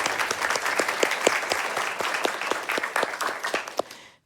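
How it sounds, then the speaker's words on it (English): Audience applause at the finale of RPG Limit Break 2025, a charity gaming marathon event: dense, steady clapping from a crowd close by, sustained for about four seconds before cutting off. "So let's give all of them a round of applause."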